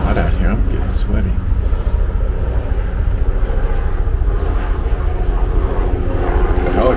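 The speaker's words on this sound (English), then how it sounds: "There's a helicopter out there." A helicopter flies overhead outdoors, heard as a steady, loud, low droning rumble that fills the whole stretch without letting up.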